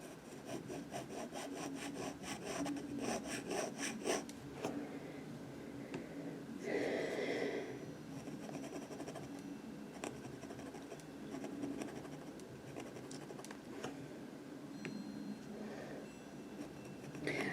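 Metal dip pen nib scratching ink marks onto paper, a run of quick rhythmic strokes followed by slower, scattered scrapes and rubs, close and quiet.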